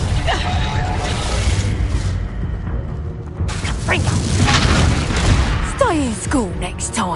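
Reducto spell blasts in Hogwarts Legacy, booming impacts with crumbling debris amid dense game effects, followed by whooshing magical streaks near the end.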